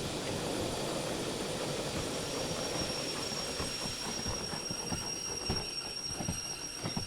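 A train in a game or simulator coasts down to a stop, a steady broadband rumble with hiss and faint high whine that eases slightly toward the end, with no talk.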